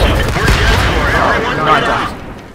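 A tank cannon fires in the World of Tanks game, a loud heavy boom that rumbles and fades over a couple of seconds, with a voice talking over it.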